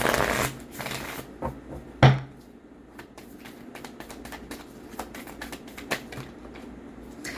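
Tarot cards are shuffled by hand, with a soft riffling burst at the start and then a run of light, irregular flicks and taps. A sharper snap sounds partway through, and the close, quiet handling continues with no talking.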